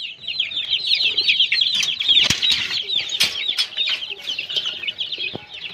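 Chickens cluck and chatter continuously, a busy caged flock close by with occasional sharper squawks and wing flaps mixed in.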